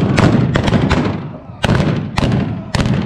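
Gunshots ring out in a staged Old West gunfight show: several loud, sharp reports in quick succession, with a pause and then two more, against a noisy crowd background.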